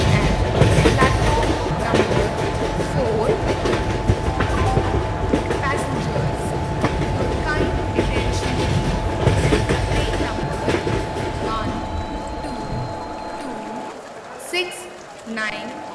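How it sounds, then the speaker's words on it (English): A Duronto Express train rolls into a platform at an Indian railway station, its wheels clattering and rumbling loud and close over a steady tone, gradually easing toward the end, with a station announcement heard over it. "Duronto Express is arriving at platform number 4"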